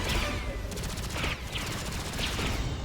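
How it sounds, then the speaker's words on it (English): Rapid gunfire in the video game Destiny 2 rattles in quick bursts of repeated shots, loud and sustained, with sharp pulses recurring across the stretch. "What is this guy shooting at?"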